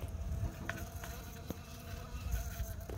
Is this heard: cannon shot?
no